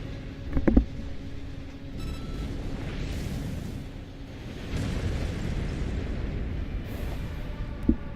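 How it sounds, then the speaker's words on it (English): Deep rumbling booms roll through a continuous low roar, with a few sharper bursts of explosions in the video game Armored Core VI: Fires of Rubicon, loud and sustained. "Use your mobility in the air to get clear of explosions on the ground."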